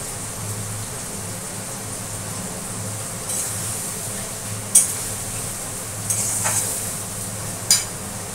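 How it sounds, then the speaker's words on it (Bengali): Onion, garlic and ginger frying with peas in a pan give off a steady, soft sizzle, with occasional brief clinks and scrapes of a utensil stirring in the pan. "পেঁয়াজটা একটু লাল লাল করে ভাজা হোক"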